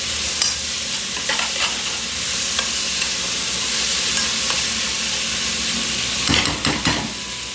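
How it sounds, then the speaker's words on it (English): Onions sauté in a hot pot for beef stew, giving a steady frying hiss with occasional scrapes of a spoon, then a quick burst of clattering stirs against the pot near the end; close-up, with no speech. "Let's throw the onions in. Give this a little mix. Let them saute a minute."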